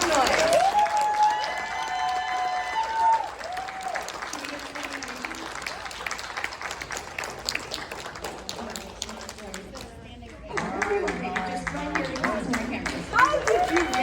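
Audience applause and cheering fill a convention panel room for the 1968 Night of the Living Dead panel at Days of the Dead Indianapolis, a steady crowd clapping that swells again near the end, with voices mixed in.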